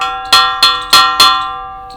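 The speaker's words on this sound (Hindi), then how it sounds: "हमारे टाइम पे भी ये घंटी बजाया करती थी ऐसे करके, और ये अब भी ऐसे ही बजा करती है" An old hand-rung school bell at a government high school is struck four times in steady succession, each loud metallic clang ringing on and overlapping the next before slowly decaying.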